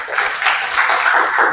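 Classroom students clap together in a steady, dense burst of applause that runs the whole moment with little talk.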